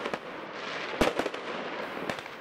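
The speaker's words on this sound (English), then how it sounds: "Fireworks explode in the streets and fires rage" Fireworks bang in Paris streets during night rioting over alleged police racism, a few sharp, loud cracks standing out over a steady outdoor rumble, with no talk.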